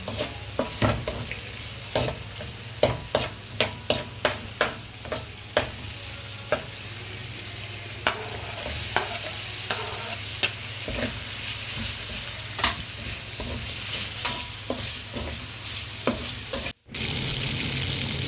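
Garlic sautéing with onion in a pan for dinuguan: a steady loud sizzle with repeated sharp spatula scrapes and taps, heavy early on, continuing near the pan throughout with no voices.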